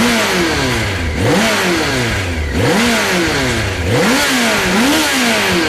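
A 1000 cc motorcycle engine revving repeatedly, pitch rising and falling in a steady cycle of throttle blips, loud and close with no talking.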